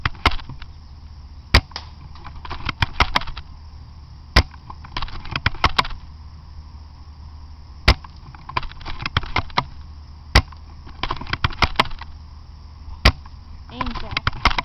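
Test shots from an SD700 airsoft gun: sharp, isolated snaps fired at irregular intervals, some in quick clusters, over a steady hum of background noise.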